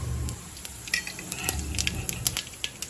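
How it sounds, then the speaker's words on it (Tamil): Fenugreek and mustard seeds fry in hot oil with a soft sizzle and scattered sharp pops and crackles, close and irregular, alongside a few light metallic clinks. "வெந்தயம் போட்டேன். கடுகும் போட்டேன். 2 பொரியட்டும்."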